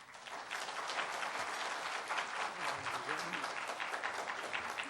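Audience at a 2015 forum applauding to welcome a professor to the stage, dense sustained clapping from a large crowd throughout, steady and fairly loud.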